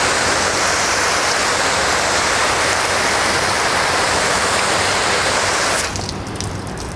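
Water spraying steadily onto the broad hood of a car coated with Turtle Wax 1 Step Wax & Dry Spray, a loud continuous hiss like a close waterfall that drops abruptly to a softer wash near the end.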